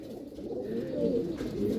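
Red Madrasi Chotiyal pigeons giving a continuous low, throaty coo that rises and falls over steady background noise.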